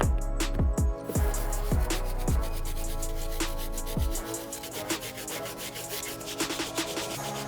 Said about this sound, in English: So in this case, I'm gonna be using our brass bristle brush.